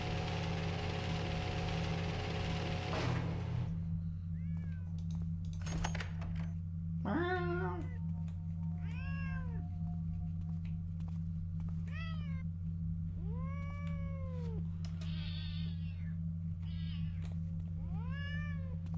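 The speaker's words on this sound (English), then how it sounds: "Let's see about these cats" Cats meow repeatedly in the Thief video game, a series of rising, wavering cries over a steady low ambient hum, with short pauses between calls.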